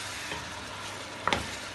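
Haleem being sautéed and stirred in an open pot, with a steady low sizzle of frying throughout and a brief louder scrape of stirring near the end.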